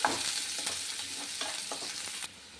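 Onions sautéing in a pan with ginger and garlic for a frankie filling, a continuous close sizzle broken by repeated scraping stirs before the frying dies down near the end.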